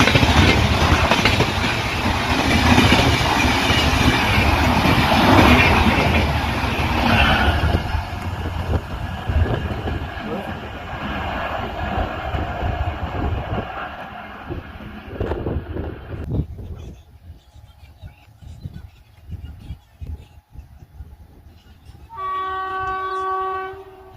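Bengaluru Humsafar Express roaring past at about 130 km/h, loud and close with rushing wheel and carriage noise that fades away, then a distant horn toots near the end.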